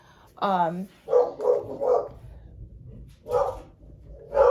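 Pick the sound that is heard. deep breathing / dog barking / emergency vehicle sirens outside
dog barking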